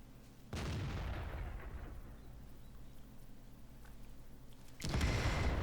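A rifle fires while hunting wild boar, a sharp blast near the start with a long fading tail, then a second sharp report near the end, heard outdoors with no talking.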